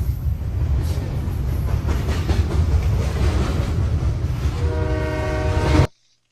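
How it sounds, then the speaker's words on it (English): A train in a kids' show approaches and grows louder, rumbling and clattering for several seconds before a horn blast rings out near the end, then cuts abruptly to silence. "the episode ends with a faint sound of a train approaching, getting louder and louder"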